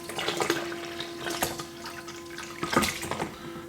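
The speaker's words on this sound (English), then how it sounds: "I will run the sanitizer through the hose with a pump" Sanitizer pumped through a hose for ale kegs, a steady watery flow and splashing with a constant pump hum underneath, close and continuous with a few louder gurgles.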